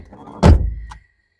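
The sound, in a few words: door being closed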